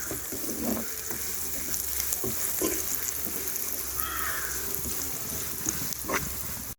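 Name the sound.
spices, asafoetida and curry leaves frying while stirred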